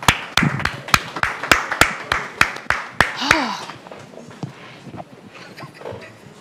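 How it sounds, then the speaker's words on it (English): A small group claps in quick, evenly spaced sharp bursts, about a dozen loud claps over three seconds, then the sound drops away into quieter murmuring voices and faint background noise. "Please give her a round of applause,"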